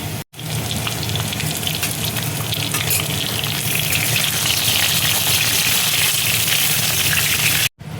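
Vegetable stalks hitting hot oil with spice paste in a pan for a mixed prawn sabji, a loud continuous hissing sizzle that swells and stays strong throughout, close up, with two brief cuts to silence.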